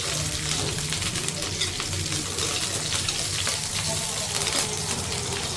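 Curry leaves hit hot oil in a pan with onions and crackle into a loud, steady sizzle that stays dense and close throughout, with no pauses.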